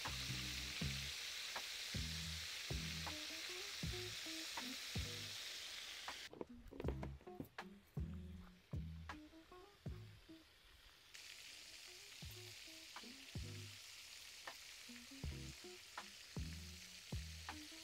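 Shrimp and baby octopus fry in a pan outdoors, a continuous sizzle broken by repeated clattering stirs and flips of utensils against the pan.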